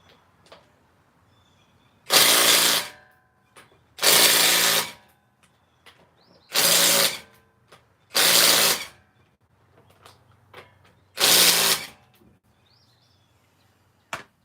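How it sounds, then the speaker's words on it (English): Five loud bursts of an impact wrench or air tool loosening lug nuts on a 2003 Honda Pilot wheel, each about a second long with quiet gaps and faint clinks between, close up. "I'm going to set this down and take the lug nuts off first."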